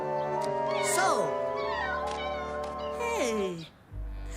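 Cartoon kittens meow in a rapid series of high, sliding mews, some overlapping, loud and close, with a low hum under the middle and a soft thud near the end.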